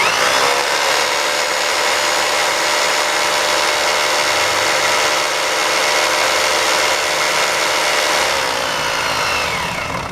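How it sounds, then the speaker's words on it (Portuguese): Electric drill running on a homemade 220 V PWM inverter fed from a 12 V battery, a loud continuous whine held steady for about ten seconds before easing slightly at the end. "Vou testar agora o desempenho aqui da furadeira"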